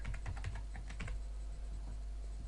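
Computer keyboard typing while entering text into a search field, a quick burst of close key clicks that thins out into sparse taps, with no talking.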